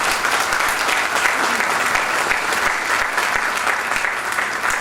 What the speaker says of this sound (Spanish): merece un aplauso. Así que se lo vamos a dar a Federalismo y Libertad